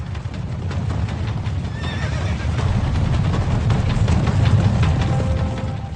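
A horse whinnies over a steady rumble of hooves, with galloping continuing throughout at a strong, even volume.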